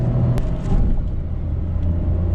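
A 2021 Renault Triber BS6 car accelerating through the gears, a steady low engine and road rumble heard from inside the cabin, holding even and continuous without any voice.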